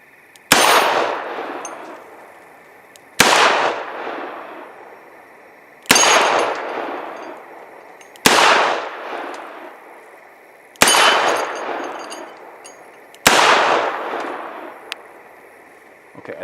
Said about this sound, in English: We're going to go double action mode and shoot at all 4 of those targets.